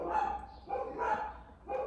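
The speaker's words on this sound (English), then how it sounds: "Old dogs are at it again." Dogs bark in a few spaced, mid-distance bursts, each a rough yapping woof with short gaps between, and no voices over them.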